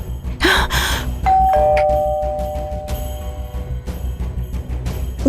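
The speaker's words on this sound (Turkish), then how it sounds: "Zili çalmalı mı?" A two-tone doorbell chime rings once, its tones sustaining and fading over quiet room noise with a brief breathy sound just before.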